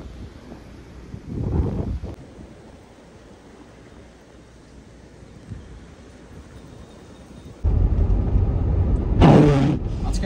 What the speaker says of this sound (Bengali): প্রচণ্ড বাতাস।